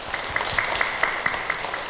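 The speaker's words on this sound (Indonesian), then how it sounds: "Tepuk tangan dulu buat Ibu Khadijah dong ya." An Islamic sermon audience in a TV studio gives a short round of clapping for a woman guest, rhythmic claps sounding fairly evenly under a faint background hum.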